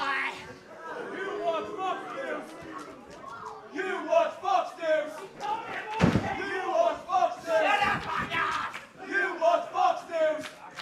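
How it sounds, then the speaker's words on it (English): Wrestling crowd at a pro wrestling show in Cathays jeers and chants loudly at a wrestler, a dense wall of shouting voices rising and falling in waves with a sharp slam-like burst midway. "The crowd in Cathays ripping on Jim Bob McCain for his choice of news channel"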